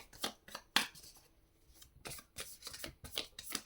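Several bursts of a large tarot deck being shuffled by hand, quick riffling and rubbing of oversized cards in short bursts with a pause in the middle, close and fairly quiet.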